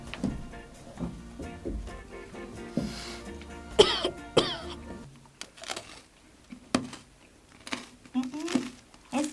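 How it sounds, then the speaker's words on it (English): Several sharp coughs and throat-clearing bursts after tasting Warheads sour candy, scattered irregularly over quiet rustling and handling noises, close to the microphone. "Cough."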